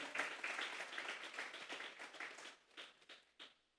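A church congregation bursts into applause, a dense, bright wash of many hands clapping that thins into a few scattered final claps and fades out.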